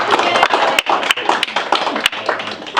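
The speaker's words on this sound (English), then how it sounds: "round of applause to all of you for each other" A round of applause from a workshop audience, with dense, uneven clapping at steady strength and a few sharper claps standing out above the rest.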